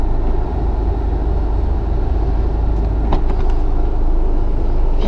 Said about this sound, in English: I'm gonna drive it down the driveway